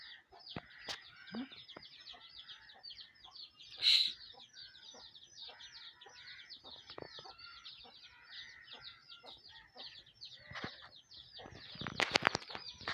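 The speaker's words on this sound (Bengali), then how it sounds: "আয় মুরগি আয় আয়" Village chickens are called in for feeding, with scattered clucks and repeated soft flaps and scratches at close range, a brief burst of wingbeats, and a louder flurry of flapping near the end.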